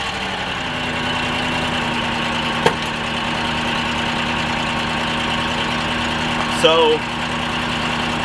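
A misfiring, rough-running V8 in a 2008 Buick Lucerne idles steadily up close with an uneven, shaky hum, punctuated by a click and a brief whine; someone speaks briefly.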